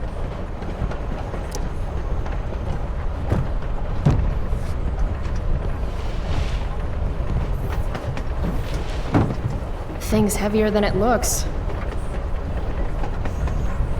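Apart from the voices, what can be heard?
train riding along rails, from video game Life is Strange: Before the Storm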